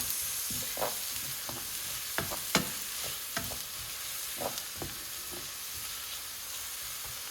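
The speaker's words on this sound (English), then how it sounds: "My oil is now nice and hot. I'm going to add in my chopped onions. Let's saute this." Chopped onions sauté in hot oil for a cottage pie, a steady close sizzle broken by several sharp scrapes and clacks of stirring, with no one talking.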